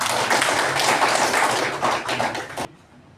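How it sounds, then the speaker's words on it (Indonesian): A class of students in an Indonesian lesson claps together in a thick, continuous burst of many hands, loud and close, then cuts off abruptly near the end, leaving quiet. "Oke, tepuk tangan dulu semua."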